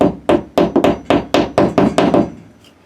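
A hammer taps a molly anchor into drywall: about nine sharp, close knocks in a quick, uneven rhythm, then quiet.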